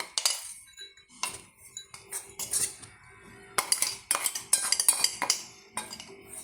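Crushed cashew nuts tipped into a dish for cashew pakkoda, heard as a series of close, bright scraping and clinking bursts of utensil against dish, coming in irregular clusters with short pauses between, no voices.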